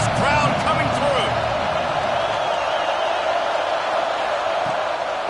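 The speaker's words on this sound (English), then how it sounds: "listen to this crowd coming through" Stadium crowd roar in a college football video game, Texas Tech at Arkansas, a steady dense wash of cheering that holds at full level throughout, with a few louder whoops near the start and no voices speaking.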